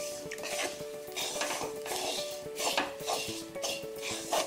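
Coconut roasting in a pan with ginger, curry leaves and shallots is stirred with a metal utensil, giving repeated close scraping and clinking against the pan and very little sizzle.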